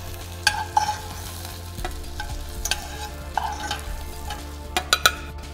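Broad beans being sautéed in a pan: a steady low sizzle runs throughout, with sharp utensil scrapes and clicks of stirring scattered across it, fairly close, no voices.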